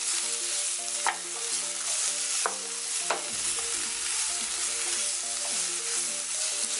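Pepper steak with chopped scallion stir-frying in a hot frying pan, a steady close sizzle broken by a few sharp scrapes and clatters of stirring, with no talking.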